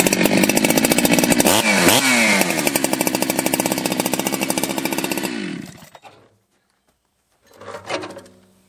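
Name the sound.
Stihl or Husqvarna chainsaw running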